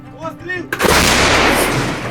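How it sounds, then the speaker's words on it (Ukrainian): A voice calls out briefly, then a single loud artillery blast booms and rolls away in a long rumbling echo. "Гармата!"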